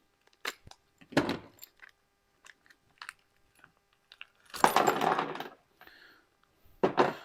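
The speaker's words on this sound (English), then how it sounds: "we are going to finally open this little bag of parts here" Small plastic bag of regulator mounting parts, with screws and O-rings, being opened and handled for a diesel e-fuel install on a lawn tractor: close crinkling rustles in short bursts, a longer rattle of parts near the end, no talk.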